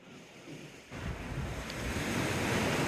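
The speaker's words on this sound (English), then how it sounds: "And it's a nice peaceful day today, relatively calm sea." Calm sea waves wash along the seawall at Teignmouth on a peaceful day. A soft, steady surf swells louder after the first second, blended with wind buffeting the microphone.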